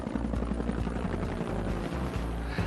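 A Bell CH-135 Twin Huey military helicopter makes a loud, continuous rotor thump with rhythmic blade chop over a droning turbine whine.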